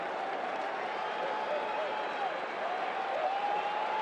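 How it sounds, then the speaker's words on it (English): A baseball stadium crowd at a Mariners–Yankees game roars and cheers steadily, urging on a strikeout by Doc Gooden, a broad, sustained wash of distant voices and clapping that holds at an even level. "Now here comes the crowd again, trying to get the first Doc Gooden K of the night"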